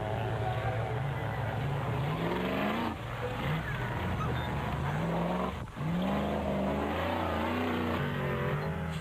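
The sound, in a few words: off-road race trucks racing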